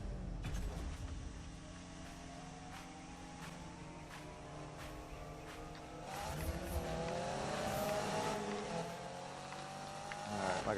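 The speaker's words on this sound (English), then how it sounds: "this is our first race with Need for Speed 2016 PC Edition" Race cars in the Need for Speed 2016 PC video game, engines whining and revving with rising pitch as they accelerate, plus tire squeal and skidding, loud and continuous throughout.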